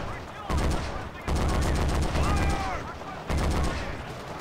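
Heavy gunfire in Forgotten Hope 2 on the Brest map, with loud bursts that start abruptly at about 0.5, 1.3 and 3.3 seconds and rapid machine-gun-like rattling in between, and voices in the mix.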